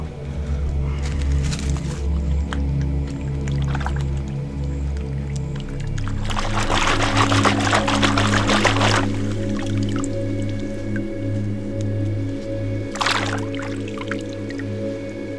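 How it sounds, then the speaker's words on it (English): Dug-up objects are rinsed in water, with wet swishing and splashing bursts rising over a steady low background hum, and no voices. "Some of these down to the water and rinse them off."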